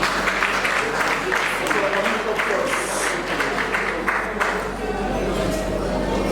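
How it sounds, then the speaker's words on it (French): Audience clapping at an awards ceremony after a trophy presentation, steady applause mixed with crowd chatter and a voice speaking over it. "Applaudissons."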